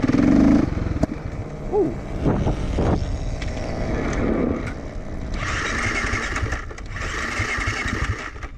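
A motorcycle engine revs and drops while the rider practises gear changes on a training road, with uneven bursts of throttle and a rising, steadier drone later on, heard up close.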